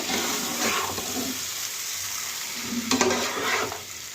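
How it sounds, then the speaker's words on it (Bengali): Mutton fried and stirred with tomato in a pan: a continuous close sizzle with rhythmic scraping strokes of the spoon, no talking. "এই যে মাংসটা দিয়ে ফেললাম এবার ভালো করে কষতে হবে"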